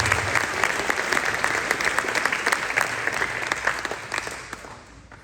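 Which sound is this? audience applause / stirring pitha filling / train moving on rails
audience applause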